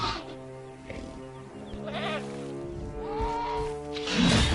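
A goat bleats repeatedly over game music and ambient sound as a raptor attacks it in the Jurassic World Evolution video game, with a fuller cry near the end.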